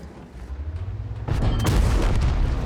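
In a tank video game, a heavy cannon shot booms loudly about a second in, and a sustained rumbling blast follows as an enemy vehicle is destroyed.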